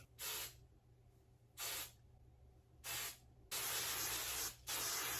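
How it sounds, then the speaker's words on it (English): Extreme hold hairspray sprayed up under the roots of wavy 2B/2C curly hair in four close, loud hissing bursts, the last one longer and briefly interrupted, over a low steady background hum. "So I lift and spray up under the roots just to give it more volume up top"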